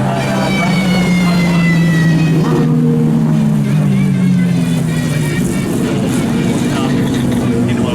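Pagani Zonda Revolución engine at the Goodwood Festival of Speed 2019 hillclimb, a loud continuous howl whose pitch climbs and shifts through gear changes, close and steady over crowd noise.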